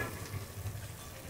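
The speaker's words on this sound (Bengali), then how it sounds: "তৈরি করে রাখা এগুলোকে ভেজে নেব, আর তেলটাকে ভালো করে গরম করতে হবে" Semolina sweets fry in hot oil, giving a quiet, steady crackling sizzle with fine popping throughout and no voices.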